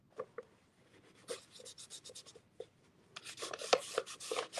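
A hand or tool rubbing around the edge of a papier mache circle, giving a series of short, soft scraping strokes in an uneven rhythm, close up and quiet, growing denser toward the end.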